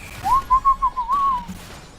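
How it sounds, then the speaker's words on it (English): A person whistles a short, fairly flat warbling tune of several rising and falling notes, close and clear over a quiet room, with no talking. "You know how to whistle?"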